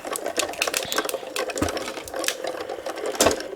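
An embossing folder feeds through a die-cutting machine at a craft table, giving a steady, close, rhythmic mechanical clatter and grinding for several seconds, moderately quiet with no talking.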